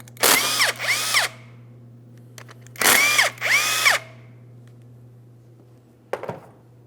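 A power tool spins out the two 17mm brake caliper slider pin bolts on a 2007-2014 Ford Edge front brake: two loud whirring bursts, each rising in two steps, followed by a brief metallic clank near the end.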